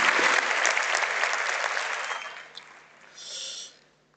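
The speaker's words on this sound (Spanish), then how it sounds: "damos un aplauso" Applause from an audience at a conference session, a short, dense wash of clapping that tapers off within a few seconds, followed by a brief breath-like noise.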